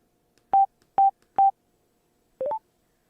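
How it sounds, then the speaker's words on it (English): Three quick, evenly spaced beeps from a Cardo Packtalk Edge motorcycle intercom as its button is clicked, followed after a pause by a short rising multi-tone chime, all close and clean against silence. "To bring this rider into the conversation, it's 3 clicks of the intercom button"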